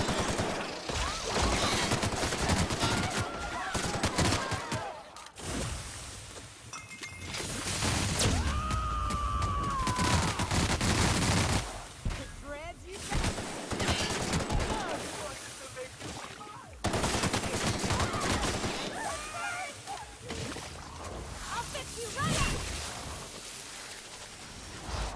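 Sustained automatic gunfire rattles through a firefight in the video game The Outer Worlds, with dense bursts and shots running almost without a break. Brief quieter gaps interrupt it, and game effects and occasional sounds mix in underneath.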